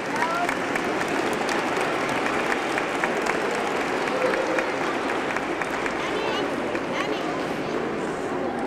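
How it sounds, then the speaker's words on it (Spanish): Audience applause at a school Christmas carol festival, a sustained dense clapping from a large crowd with murmuring voices mixed in, steady and moderately loud throughout. "por favor, un aplauso por haberse repuesto también"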